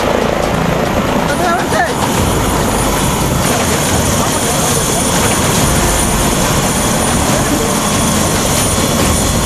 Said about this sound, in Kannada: ಆಗಸದಲ್ಲಿ ಹೆಲಿಕಾಪ್ಟರ್ ಆರ್ಭಟ ಜೋರಾಗಿತ್ತು.